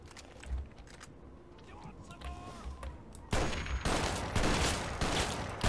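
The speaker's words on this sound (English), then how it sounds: "What the fuck is that guy shooting me with?" Enemy gunfire in Fallout: New Vegas, a rapid crackling burst of automatic shots breaking in loudly after a quieter stretch of scattered game sounds.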